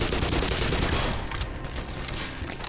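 Grenade blast in the video game Black Mesa, a dense burst of explosive crackle and rumble that fills the opening second or so, then thins into a ringing, fading tail.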